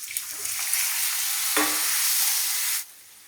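Chopped potatoes frying in oil with whole cumin and asafoetida for aloo jeera, a loud close steady sizzle with a brief stirring scrape midway before it cuts off near the end.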